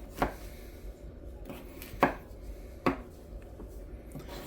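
Large washed potatoes being chopped into pieces with a knife for cast iron cooking, giving several sharp, close knocks at irregular intervals, a few loud and others softer, against a quiet kitchen background.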